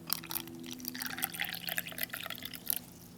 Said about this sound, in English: But we'll go ahead and add some more water.